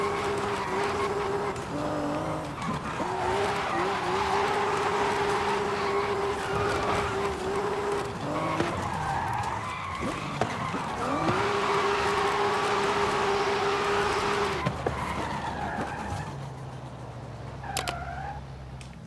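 A 1150 hp Toyota Soarer drives hard in Forza Horizon 5, its engine revving and holding pitch as the tyres squeal through repeated long skids, loud and continuous before the revs drop away.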